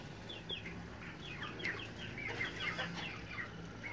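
Chickens cluck and chatter softly at mid distance, scattered short calls over a steady murmur of farmyard background noise.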